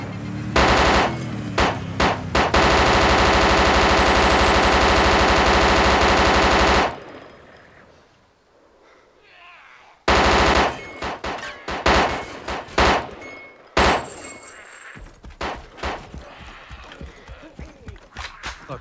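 Rapid bursts of automatic gunfire from a Tec-9 in the DayZ Overpoch mod, loud and close, with long sustained strings of shots, a quiet gap, then renewed clusters of shots and single cracks.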